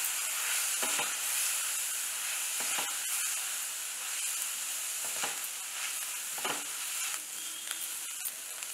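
Onions sizzle steadily in hot oil with a soft constant hiss, broken by a few brief stirring scrapes, while cooking ivy gourd kurma; no voices.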